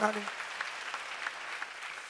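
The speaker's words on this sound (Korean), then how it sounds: "빨리 박수 주세요" A church seminar congregation claps during a sermon on the Psalms; the applause is soft and distant, with a brief voice at the very start.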